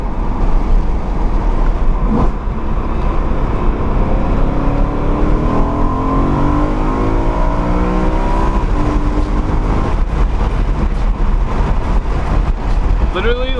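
A BMW E9X M3 fitted with individual throttle bodies, its engine loud and close, with rising and falling revs that sweep up and down through the clip, heard from inside the car along with voices.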